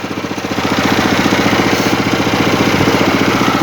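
A small homemade generator running during a test, a loud close engine chugging in a steady rapid rhythm that rises quickly at the start and then holds even throughout.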